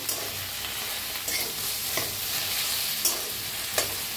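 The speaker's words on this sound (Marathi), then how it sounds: "असं हलवत भाजली म्हणजे जास्त चिकट भी होत नाही" Garlic okra stirred and pan-roasted in a hot pan, a steady broadband sizzle with occasional scraping strokes of the spoon through the okra, close and continuous with no talk.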